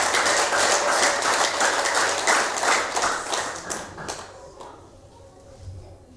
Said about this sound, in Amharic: አንድ ሰው አጨብጭቡ ለጌታ ክብር ይስጥ።